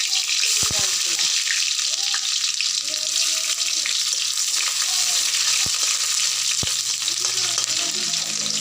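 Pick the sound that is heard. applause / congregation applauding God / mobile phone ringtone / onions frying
onions frying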